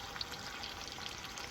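Seasoned fish fries in a pan outdoors with a faint, steady sizzle that lasts the whole short moment.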